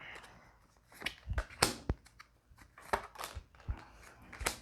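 Tarot cards are shuffled by hand in a run of crisp, irregular riffling and slapping bursts that stay close and moderately loud, with no voice over them.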